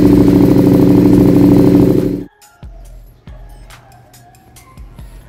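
Motorcycle engine fitted with an Orion full exhaust, a loud steady drone for about two seconds that cuts off abruptly, followed by quieter low thumps and clatter.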